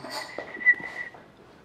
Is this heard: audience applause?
no